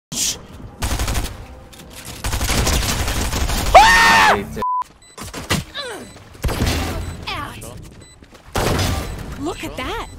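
Gunfire in a video game comes in loud, rapid bursts and volleys mixed with thuds, while people talk and shout excitedly over and between the shots.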